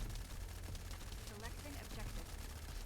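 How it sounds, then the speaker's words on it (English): Rapid automatic gunfire from Hailey's weapon in a looter-shooter game during a tanky hybrid boss fight, a dense continuous rattle of shots with no pause, with talk underneath. "now we're shooting at the same time as us pressing this"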